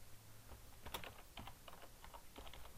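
Typing on a computer keyboard while entering search terms into real-estate listing software, with quick irregular clusters of close, crisp key clicks and short pauses between bursts, no talking.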